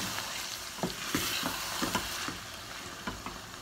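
Ghee sizzles and crackles in a hot pan, with a steady hiss broken by a series of stirring scrapes and spatters, close up and with nobody speaking.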